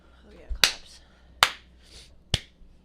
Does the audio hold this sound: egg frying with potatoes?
no